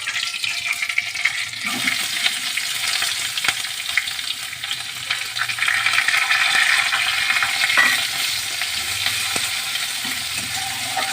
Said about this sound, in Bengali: পেঁয়াজ আর কাঁচা লঙ্কাটা একটু আমরা ট্রান্সপারেন্ট করে ভাজবো।